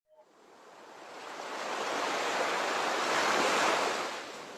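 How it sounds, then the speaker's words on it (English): A broad, steady wash of ocean surf swelling gradually and holding, a continuous roar of breaking waves with no voices. "I'm going to play the sound of wave"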